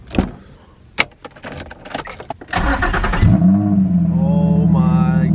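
Keys jingle and a door clunks, then a Nissan G50Z car engine starts and revs loudly up close, settling into a steady, throaty idle.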